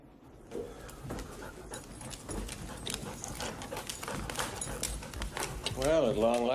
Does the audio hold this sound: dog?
yes